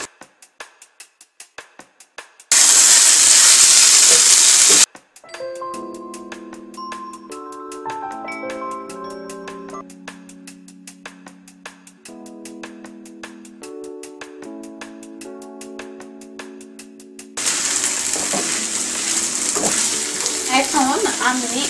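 Half a chopped carrot stirred and fried in a pan for Bangladeshi shahi pulao: loud sizzling hiss in two bursts, one early and one at the end, with melodic background music throughout.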